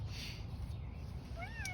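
A cat meows in a backyard garden, a short rising call near the end over a steady low outdoor hum, with a faint bird-like chirp earlier.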